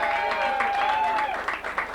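Audience applause for a bachelor contestant on stage, a dense crowd clapping beneath an announcer's voice and a sustained tone, holding steady before loosening near the end.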